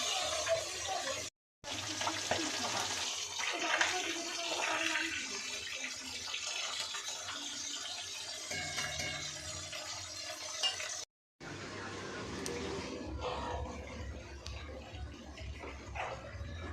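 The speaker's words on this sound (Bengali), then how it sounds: "কলে জল ভর্তি" Water runs from a tap to fill a container, a continuous rushing flow that cuts out briefly twice, with faint background noise and no voices.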